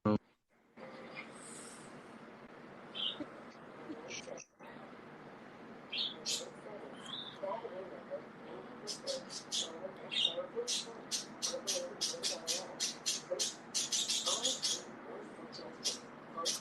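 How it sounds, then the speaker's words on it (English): Birds chirp and tweet outdoors in repeated bright bursts that grow denser toward the end, with scattered squawks and a steady low background murmur. "The birds are chirping today."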